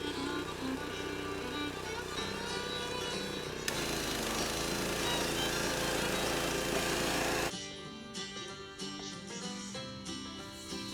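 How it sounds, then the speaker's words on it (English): A pressure washer runs steadily at close range while cleaning a front tine tiller, a loud, continuous hissing spray roar that shifts in tone partway through as the jet moves, with no talking. "get the pressure washer started, and get to cleaning."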